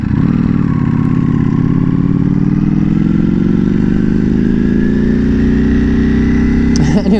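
Ducati Panigale V4 motorcycle cruising at low speed, its engine a loud, steady drone that rises slowly in pitch, heard close up from the rider's position with wind noise.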